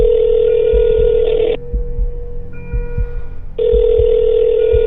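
A telephone rings in bursts of a loud electronic tone, two rings separated by a short gap, with a faint pulsing rhythm underneath.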